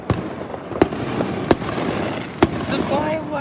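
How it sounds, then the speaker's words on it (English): Fireworks at a display go off as several sharp, separate bangs spaced about a second apart, moderately distant, with crackling and excited voices of onlookers in the background. "The fireworks are happening."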